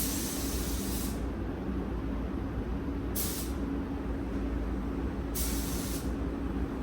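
An HVLP spray gun hisses steadily while spraying metallic silver paint onto a motorhome, a continuous close airy rush with brief brighter bursts as the trigger flow changes.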